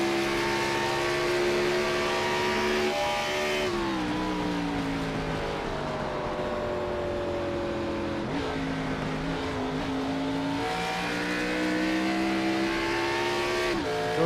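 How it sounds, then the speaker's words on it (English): An iRacing race car in a video game drops gears through turns, its engine note rising and falling in repeated steps with brief throttle lifts, a steady loud drone without talking. "They'd be downshifting through turns 1 and 2, and you can hear just that"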